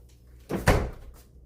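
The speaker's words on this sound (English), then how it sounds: "Let's close this door." A kitchen door is pushed shut, giving one solid thud with a short rattle after a brief scrape. The close is near and fairly loud against a quiet room, and nobody speaks.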